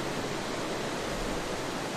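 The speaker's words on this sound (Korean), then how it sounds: "바다 소리라기보단 계곡 소리지" A valley stream in a horror video game rushes as a steady, dense broadband wash of flowing water, loud and unbroken with no voices over it.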